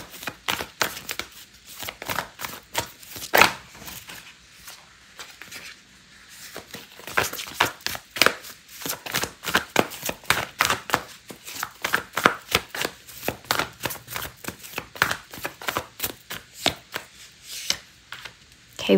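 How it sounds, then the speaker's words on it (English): Oracle cards being shuffled by hand: rapid, irregular papery riffles and slaps in bursts, some stretches denser than others, close up and fairly quiet, with no talk. "I'm going to pull out an oracle card for you"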